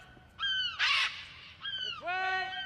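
A seagull calls during a bird-of-prey style flying display at Tredegar House in Newport, South Wales, giving a few bright, harsh cries in quick succession with a short noisy burst between them, fairly close and clear.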